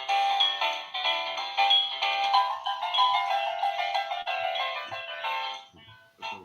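A mobile phone ringtone plays as a continuous bright melodic tone, fairly loud and close, lasting several seconds before cutting off, with no voices over it.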